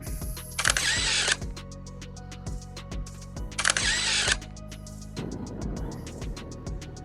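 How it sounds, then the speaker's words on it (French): A camera shutter fires twice during a photo stop on the Col de la Schlucht in the Vosges, each a short mechanical burst with a whirring drive, set against a low steady hum and faint clicks. "Prendre une petite photo."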